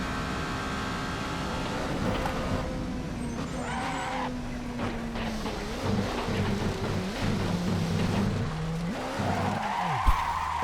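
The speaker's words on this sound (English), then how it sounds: "that's one way to get the car to spin" Race car in a racing video game spinning out and skidding, a steady engine drone bending and wavering through the slide with scraping tire noise, ending in a sharp rising whine, loud and continuous with no talk.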